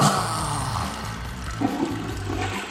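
A toilet flush sound effect plays loud and close, a continuous roaring rush of swirling water that holds for the whole stretch with a gurgling texture.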